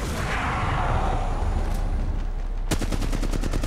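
In Apex Legends Mobile, a rumbling blast fills the first part, then a rapid burst of automatic gunfire cracks out loud and close near the end.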